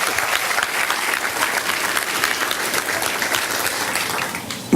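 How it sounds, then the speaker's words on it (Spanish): Loud, steady applause from a crowd welcoming a school director at a 40th-anniversary education school event, dense clapping sustained throughout before tapering slightly at the end. "Un fuerte aplauso para nuestro director."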